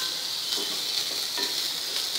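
Chopped coriander and capsicum sizzle steadily in hot oil in a pan, a loud, even frying hiss with faint stirring scrapes, close by and without speech.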